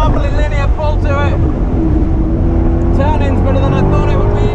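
Maserati Levante Trofeo SUV with a Ferrari-derived engine pulling hard from a launch, a continuous loud engine roar mixed with wind buffeting, heard from inside the cabin while someone speaks over it.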